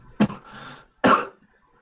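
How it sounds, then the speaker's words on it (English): Two sharp, close coughs about a second apart, each a short harsh burst with a brief throaty tail between them, in a quiet room. "sorry, my cough is just"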